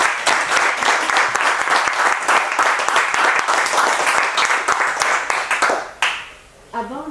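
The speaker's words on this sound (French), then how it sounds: "nous pouvons commencer par applaudir Anne" An audience applauding at a conference, a loud, dense burst of many hands clapping that carries on for several seconds and then cuts off abruptly, leaving quieter background sounds.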